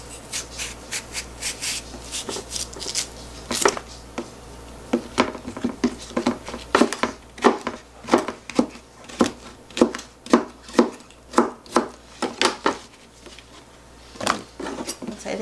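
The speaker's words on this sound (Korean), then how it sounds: "오이를 먼저 좀 잘라줄게요" A knife chops cucumber on a cutting board in quick, irregular strikes, each a crisp crunchy tap, close up with a low hum underneath.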